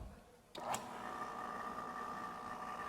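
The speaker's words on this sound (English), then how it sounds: "It's a vacuum pump. And if I switch this on," An electric vacuum pump at a science stage show switches on after a quiet moment. A sharp click gives way to a steady, mid-pitched motor hum with a faint whine that carries on evenly.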